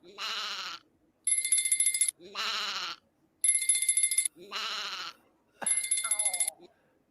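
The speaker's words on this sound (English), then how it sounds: "Let's watch how long Big T lets this phone ring before paying attention." A phone ringing in three clipped bursts, each alternating with a bleating, sheep-like call, so the ringtone and bleats trade off steadily and loudly with short gaps between them; no one speaks.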